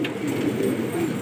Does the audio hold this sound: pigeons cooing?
yes